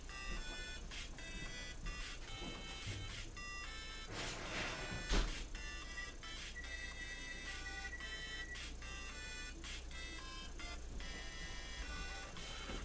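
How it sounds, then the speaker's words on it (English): A kitchen oven gives a faint electronic beep signal, a series of short, evenly spaced high tones repeating over a quiet room background. "Hold on just a moment, the oven just beeped."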